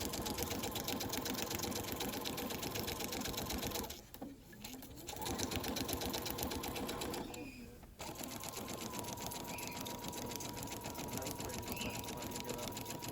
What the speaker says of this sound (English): I'm just sewing, as you can see, around these papers as so.